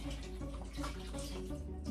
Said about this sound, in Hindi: पानी पानी थोड़ा और डालते हैं